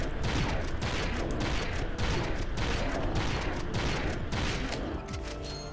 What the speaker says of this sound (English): Man, I love the blitz cannon.